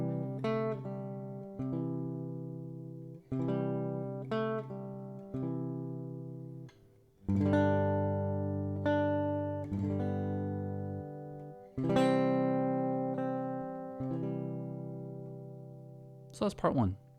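The first part of Silent Night is played fingerstyle on a solo acoustic guitar, with plucked notes and chords ringing out in phrases over about seventeen seconds and no voice over them.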